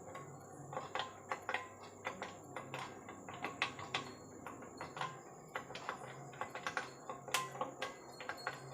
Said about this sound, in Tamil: பட்டன் எல்லாம் அழுத்தி பார்க்குறோம்.